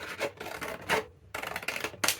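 Scissors or a blade work through paper trimmed for a junk journal folio, giving several close, raspy rubbing strokes in quick bursts separated by short pauses.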